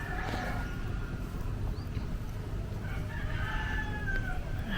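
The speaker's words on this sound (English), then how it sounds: "there's a little chicken down there." A rooster crows from below a balcony on Nusa Penida in hot weather, a couple of loud cock-a-doodle-doo calls rising over steady outdoor ambience and low rumble.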